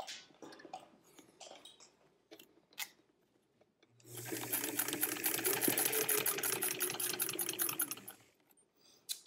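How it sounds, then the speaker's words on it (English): A sewing machine stitches fabric raw edge to raw edge at an eighth-inch seam on a French fashion doll dress, running in one steady burst of about four seconds after quiet handling noises. "now you're going to sew it"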